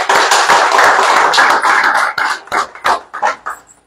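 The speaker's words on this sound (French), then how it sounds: "je vous prie d'applaudir pour le CTRI" A crowd at a Gabonese presidential campaign rally applauds for the CTRI, a dense burst of clapping that holds steady for about two seconds, then breaks into a few scattered claps and fades out.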